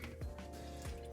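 Water drips faintly into a kitchen sink just after a garbage disposal test run, a couple of soft drops over a low steady hum in a quiet room.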